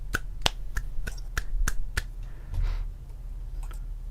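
Someone in a Minecraft game session claps their hands about eight times, sharp single claps spaced evenly and close, standing alone over a low background hum with no talk.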